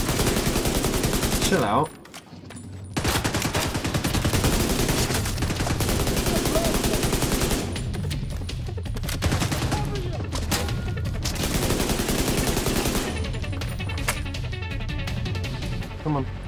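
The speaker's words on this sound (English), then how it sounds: "he is shooting me behind a shield" Enemy gunfire in The Division 2, sustained automatic bursts and overlapping shots hammering almost without pause, with someone talking over the shooting.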